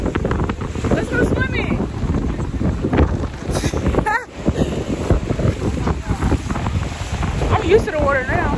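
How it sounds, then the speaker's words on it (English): Strong wind buffets the microphone in rough, roaring gusts at the sea, with waves and water splashing close by. "This wind is whipping, child."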